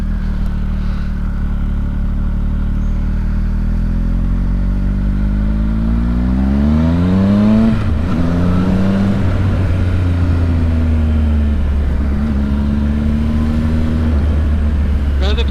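Engine of a 2019 Triumph Speed Triple 1050 RS while riding, a loud steady drone whose pitch climbs, then drops sharply at a shift and settles into a lower even hum, heavy and close throughout.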